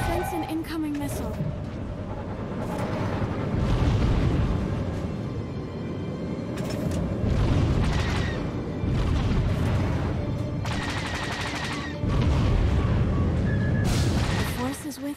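Heavy booming explosions from incoming missiles in a video game, a dense continuous rumble with repeated loud blasts and crackling bursts piling up over one another, loud and close throughout.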